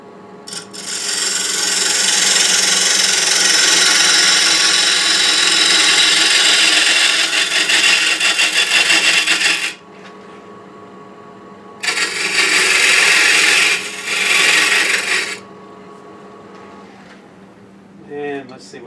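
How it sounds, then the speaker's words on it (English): A round-cornered box scraper cutting the inside walls of a wooden box turning on a lathe, heard as a loud, rough, continuous scraping hiss in two long passes separated by a quieter stretch of the lathe running. "I'm going to bring these walls in a little bit using a box scraper that's got a rounded corner"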